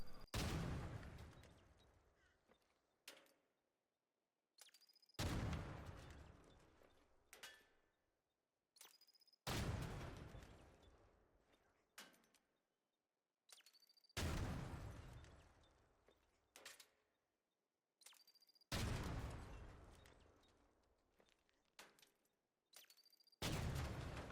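Trigger Nade grenades in the ARC Raiders game detonating against a barricade, six heavy booming blasts at steady intervals, each with a sharp attack and a long fading rumble, loud and close with no voices.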